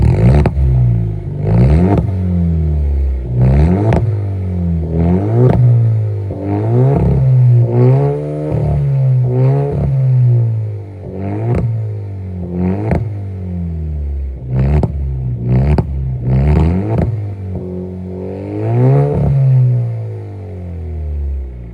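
A 2.0 Alfa Romeo Stelvio fitted with a Monza exhaust cruising on the highway, its loud exhaust drone rising and falling repeatedly with throttle and shifts, a strong, close, continuous engine note without voices.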